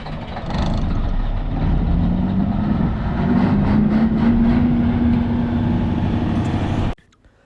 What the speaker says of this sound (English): it's all generator power, and I tell you, that's one big generator